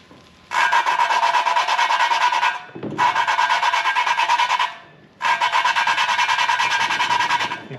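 Valve lapping on a BMW M54 cylinder head: a valve rotated against its seat with lapping compound gives three loud, close gritty rubbing bursts separated by short pauses, with no talking.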